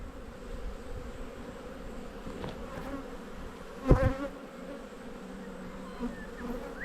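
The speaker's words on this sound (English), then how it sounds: "We've got some bees up here." Bees hum in a steady, low drone close by at a beehive in spring, with a few louder buzzes as individual insects pass near.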